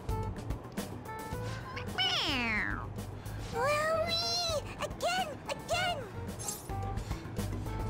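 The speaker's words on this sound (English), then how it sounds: "It's, a toy. It meows when you press on its head." A toy cat from Persona 5 Royal lets out several synthetic meows when its head is pressed, bright rising-and-falling cries over a low background hum, with a short crash-like thud mixed in.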